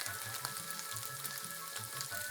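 Morel mushrooms fry in a hot pan with a steady, close sizzle and crackle, punctuated by soft bubbling pops and faint stirring, with no talking.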